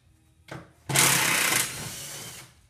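Rotating machinery of a Tomahawk bowling target gives a brief mechanical whir: a short buzz, then a louder burst that settles into a steady hum before cutting off, close and fairly loud.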